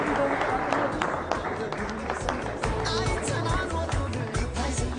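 An audience claps at an award ceremony for Ethiopia's national football team at a Hawassa resort, dense sustained applause with crowd noise, while someone speaks over it.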